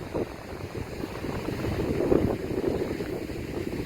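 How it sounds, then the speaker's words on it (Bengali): Strong wind buffeting across a narrow coastal ridge high above the sea on both sides, a continuous loud rushing roar that swells and gusts throughout. "প্রচণ্ড হাওয়া আছে।"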